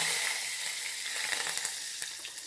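Curry leaves, mustard seeds, cumin, asafoetida and ajwain sizzling in hot oil for kadhi, a steady bright crackling hiss with scattered small pops, close but fairly soft.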